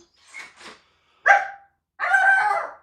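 A dog vocalizes up close: two soft short barks, then a sharp yelp and a longer, drawn-out howling whine.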